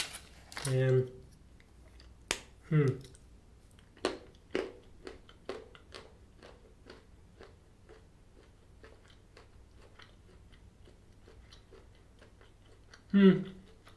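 Crunchy dark chocolate with salted caramel pieces and sugar bits being chewed close up, a few loud crisp bites followed by a long run of sharp, evenly spaced crunches that fade toward a final bite.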